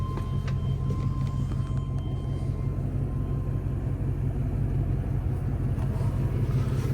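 A 1999 Chevrolet Suburban C2500 engine runs outdoors after dark, giving a constant, even low rumble close by with no break.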